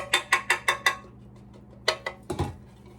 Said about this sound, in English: We're just gonna use our butter and just kind of go around the edge of our pan